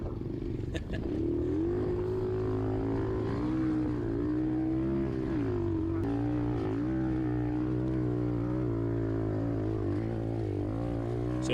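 Apollo 007 125cc dirt bike climbing a sand hill: a loud, continuous engine drone held near the listener, pitch wavering and rising and dipping as the throttle shifts, with a brief rider exclamation over it.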